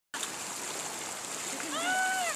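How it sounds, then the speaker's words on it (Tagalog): A river stream flows in a steady, close rushing wash of water, with a brief high warbling tone rising over it near the end. "Nandito na kami sa ilog."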